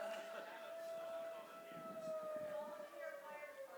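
Siren wailing outside during an indoor talk, a steady sustained tone drifting slowly downward in pitch, moderately loud and continuous over faint room noise.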